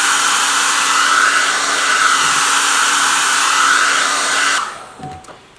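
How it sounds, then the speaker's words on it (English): A hairdryer drying paint on a tin can blows with a loud, steady whine and rush of air, close by, then cuts off abruptly near the end, leaving quiet handling noise. "I'm gonna take the hairdryer one more time."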